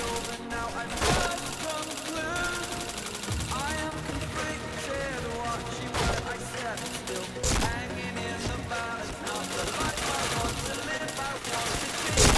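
Gunfire in a shooter video game: sharp repeated shots and bursts punch through a busy mix of in-game music and effects, recurring at irregular intervals across the stretch.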